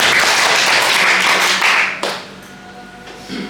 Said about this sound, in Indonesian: Tepuk tangan dulu bagi Tuhan.